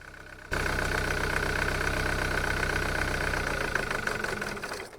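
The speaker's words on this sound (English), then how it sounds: "it's only running on 2 cylinders" A Jaguar X-Type diesel engine idles roughly while running on only two cylinders, a steady close rumble with an uneven, lumpy beat and a persistent whining tone, starting abruptly and holding for several seconds.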